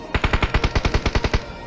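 Rapid automatic gunfire in a video game, a quick burst of about a dozen evenly spaced shots fired in steady rhythm over under two seconds, close and punchy with no talk.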